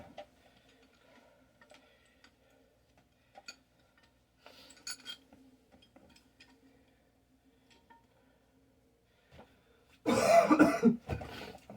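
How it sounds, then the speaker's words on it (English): A person who is sick coughs in a harsh, loud burst near the end, after a long stretch of near silence broken only by faint ticks and small rustles. "I'm sniffling, coughing."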